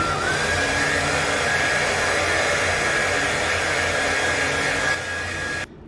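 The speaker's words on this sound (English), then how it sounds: "Now blow dry on cool setting." A hair dryer on its cool setting blows steadily and loudly at close range for about five seconds, with a faint whine running through the airflow, then drops a little in level before cutting off.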